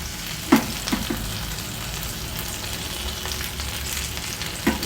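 Drumstick leaves frying in oil in a pan, an even crackling sizzle broken by a few sharp knocks of a utensil against the pan, close and steady.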